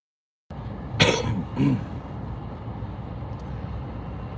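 Two sharp coughs close to the microphone, a brief pause between them, over a low steady background hum.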